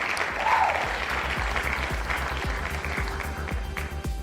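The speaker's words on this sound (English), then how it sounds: "Oh fuck, clap for Monroe, y'all." A live audience bursts into steady, dense applause for an arriving guest, loud and continuous throughout, with faint talk underneath.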